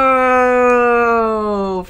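In the video game Metal Gear Solid 3: Snake Eater, Snake's stomach growls with a long, loud, cow-like moan that holds a steady pitch, sags slightly lower and fades out near the end.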